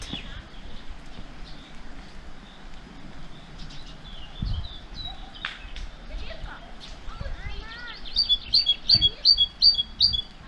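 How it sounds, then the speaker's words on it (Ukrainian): A great tit's chirps and repeated bright call notes over a murmuring outdoor background, with a louder rhythmic run of notes near the end. "чути велику синицю"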